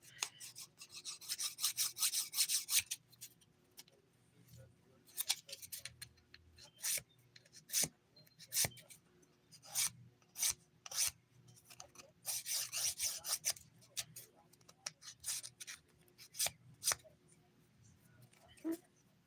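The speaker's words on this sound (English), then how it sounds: "I got some dried acrylic here. I'll just do it with a file." Short, dry rasping strokes of a nail file working down dried acrylic on fingernails, coming in quick bursts and separate scrapes close up, with pauses between them and no speech.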